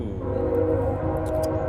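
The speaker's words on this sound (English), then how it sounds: "Train!" A passing train rumbles steadily and loudly nearby, a continuous low roar with a faint tonal whine.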